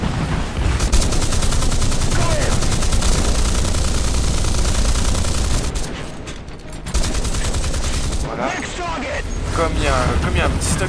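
British anti-aircraft guns in War Thunder firing sustained rapid automatic bursts, a dense continuous roar of gunfire with a short lull and then renewed firing, loud throughout.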